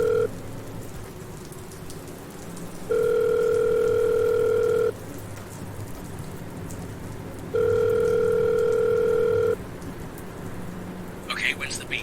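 Two long, loud electronic telephone beeps, each about two seconds, sound over a steady background hiss with a brief rustle near the end; no one speaks.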